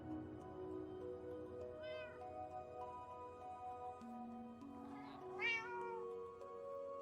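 Cats in a Minecraft cat cafe built of yarn and wool meow in game audio, two or three short rising calls against a soft melodic music backing, moderately close.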